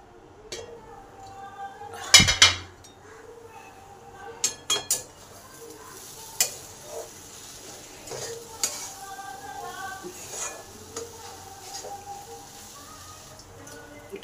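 A spoon stirs ridge gourd and masoor lentils in a pan, scraping and clinking against the metal in scattered strokes over a faint sizzle, with a louder clank early on.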